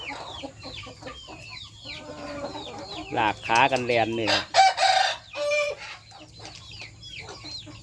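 Young roosters in a home flock cluck and attempt short, rough crows, several birds calling close by in overlapping bursts, with someone talking over them.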